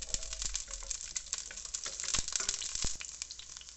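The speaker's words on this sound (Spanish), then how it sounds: "Aquí en un sartén coloqué aceite, son dos cucharadas, ya está caliente y vamos a agregar nuestra cebolla y el diente de ajo para que se zancochen" Onion and a garlic clove sizzle in two spoonfuls of hot oil in a frying pan, a steady, crackling hiss with scattered pops, close and continuous with no talking.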